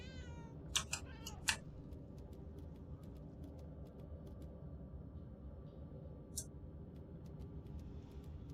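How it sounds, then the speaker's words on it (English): A cat in the Murdered: Soul Suspect video game gives a couple of short meows early on, over a low, quiet ambient hum with faint ticking clicks scattered through the rest. "kitty cat, what are you doing here? Pretty kitty."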